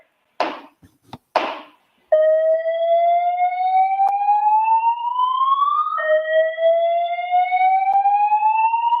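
A building fire alarm sounds loud and steady: two short bursts at the start, then a rising electronic whoop that sweeps upward and repeats, with no speech.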